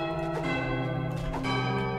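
In the video game Goat Simulator 3, a church bell rings with sustained, layered metallic tones swelling again midway, loud and steady without speech.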